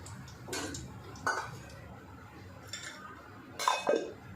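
Two to three spoonfuls of cooking oil added to a pan for curry leaf chutney, with light metal spoon clinks and taps against the pan, scattered and close, no talk.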